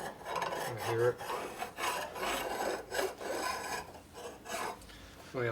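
A hand file rasping across a Harley-Davidson Shovelhead engine case during repair, uneven strokes repeating at close range, with faint tonal ringing here and there.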